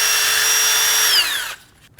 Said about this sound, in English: We're going to clean up where the wheel bearing sits in the backing plate with a wire brush.